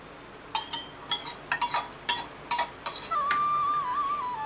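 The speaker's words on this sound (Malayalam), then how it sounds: "അപ്പോൾ നമ്മൾ ഇതിനെ ഒന്ന് ഒന്നാം പാലൊന്ന് ചേർക്കാം. നല്ലപോലെ ഒന്ന് ഇളക്കി കൊടുക്കാം." A spoon stirs chana dal payasam with added coconut milk in a pot, making a quick run of metallic clinks and scrapes, followed by a steady thin whine at the end.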